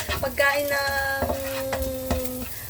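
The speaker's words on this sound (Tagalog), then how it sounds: "Gisa-gisa na siya." Shrimp sauté in a pan for pancit, a close crackling sizzle with stirring scrapes and clinks throughout.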